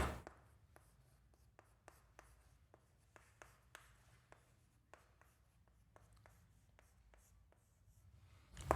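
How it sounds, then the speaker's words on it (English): Pen or chalk strokes while a maths formula about triangle properties is written out, making faint, close, irregular taps and scratches spread across the quiet stretch, with no talking. "I will write."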